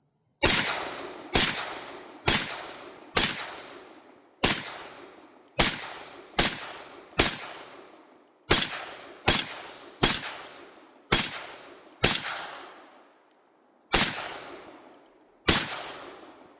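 A Fulton Armory reproduction M1 carbine fires about seventeen sharp, loud shots at an uneven quick pace, each crack ringing out briefly before the next, with no talking.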